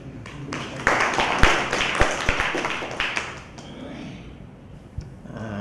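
Applause for an award recipient at an alumni forum held in an IIT Madras hall, a short burst of claps that swells quickly, stays moderately loud for a few seconds and then fades.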